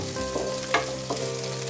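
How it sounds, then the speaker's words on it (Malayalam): Halved onion sautéing in coconut oil and ghee for Kerala-style coconut rice: a steady close sizzle and crackle with a few stirring scrapes, no talking. "പകുതി മുറിച്ച സവാള ചേർത്ത് ജസ്റ്റ് ഒന്ന് സോട്ട് ചെയ്യാം."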